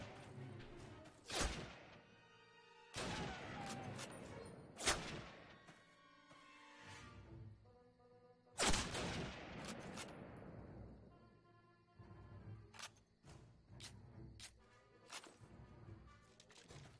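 Gunfire in the classic Call of Duty video game: several loud booming shots and blasts with echoing tails, spaced irregularly, followed by a run of sharper, quicker cracks, all at close range.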